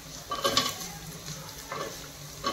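Ginger goes into a hot pan while sambar is cooked at home, giving a soft, steady sizzle with a few clinks of a spoon stirring against the pan. The sound is close and fairly quiet.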